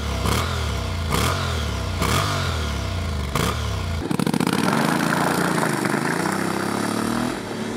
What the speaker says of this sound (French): On garde la même sonorité de bicylindre parallèle, calé un peu comme un bicylindre en V